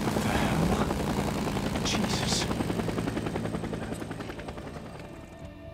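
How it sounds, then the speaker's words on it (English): Helicopter in the Days Gone video game, a loud close rotor chop throbbing continuously and slowly fading, with a brief spoken exclamation over it. "Follow that helicopter."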